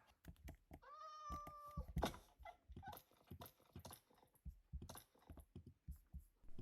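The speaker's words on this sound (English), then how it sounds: "I think that's a cat." A cat in Minecraft gives one clear meow, mid-loud, while a person talks over a busy stretch of keyboard-like clicks and game sounds.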